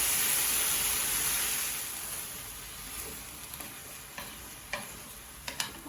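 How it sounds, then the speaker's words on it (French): A sauce made with semi-thick soy cream simmers in a pan, producing a soft, continuous hiss that fades a little over time, dotted with a few faint ticks and pops, and no one speaks. "on laisse mijoter jusqu'à ce que la sauce soit évaporée"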